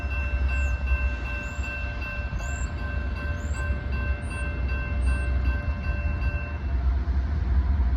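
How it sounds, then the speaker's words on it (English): A long intermodal freight train rolls steadily past on a nearby track with a loud low rumble and wheel noise. A horn sounds with steady tones partway through, and thin high squeals come from the wheels, with no talk. "It's like an intermodal train. Track 1."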